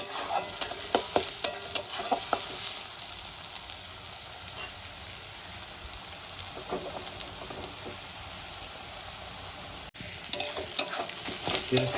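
Food frying in a pan until reddish for a prawn and jackfruit dish, a steady crackling sizzle under repeated sharp clicks of stirring at the start and end, close and moderately loud.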